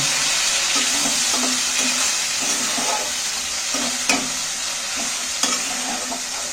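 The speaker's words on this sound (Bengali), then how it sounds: "মশলাটা আবারও আমি কষে নিচ্ছি।" A spice paste with chilli, turmeric and a splash of water stir-fries in a pan, giving a steady, close sizzle broken by regular scraping strokes of a spatula.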